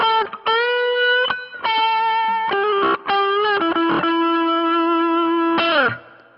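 Electric guitar picked through a Lounsberry Nigel pedal, a series of distorted sustained notes and chords with sharp pick attacks and brief gaps, loud and close, ending with a fade.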